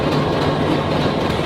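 A train running on rails in Bangladesh gives a steady, close rumble with continuous rattling and clatter and no pauses.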